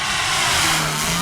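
A Yak-11 RC plane flies past with its throttle chopped, leaving a steady airy rush of wind and a faint low hum, loud and close throughout.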